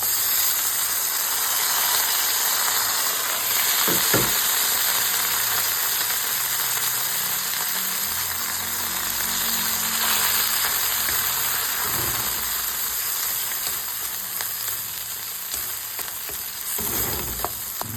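Corn kernels sauté in a pan over ginger, garlic and onion, giving a steady, loud sizzle throughout with occasional clinks and scrapes of a stirring utensil; no one speaks.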